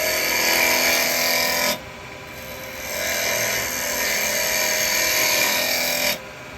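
A carbide tool cutting wood spinning on a lathe, a loud continuous scraping whir close by that drops briefly when the tool eases off, then resumes.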